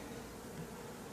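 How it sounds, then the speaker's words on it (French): Honeybees climb up through stacked supers on a beehive during a summer honey harvest, making a steady, faint buzzing drone that fills the whole moment without pause. "On peut voir déjà les abeilles qui arrivent à monter,"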